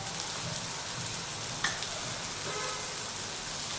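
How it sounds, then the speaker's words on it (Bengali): Ground spices with a splash of water fry in a pan for a Bengali nenua curry, giving a steady soft sizzle and crackle like light rain, with one sharp clink partway through. "আর দিচ্ছি অল্প করে একটু জল, যাতে মশলাটা না পুড়ে যায়। এখন মশলাটাকে খুব ভালো করে কষিয়ে নেব।"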